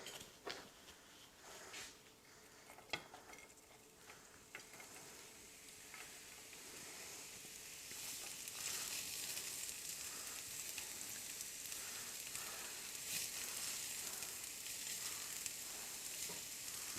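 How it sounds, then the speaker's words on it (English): Mahi fish and vegetables sizzle in olive oil in a pan, a soft steady hiss with a few light clinks early on that grows fuller and denser partway through, heard close with no talking. "We have our fish and our vegetables in the pan now."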